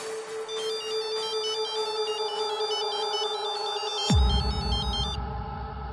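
In a Hindi dubbed film, a phone ringtone plays a repeating electronic melody over background music, then a sudden low impact sound hits and the ringing continues briefly before stopping.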